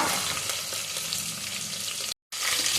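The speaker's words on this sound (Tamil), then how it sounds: "தாளிக்கும் போது கொஞ்சம் காஞ்ச மிளகா போட்டுக்கோங்க" Steady, dense sizzling of dried chillies and spices frying in hot oil, continuous and close, with a brief cut to silence near the end before the crackle resumes.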